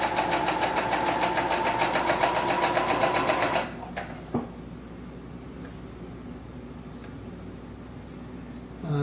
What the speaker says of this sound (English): keeping the fabric just to the edge of that presser foot as we continue around this.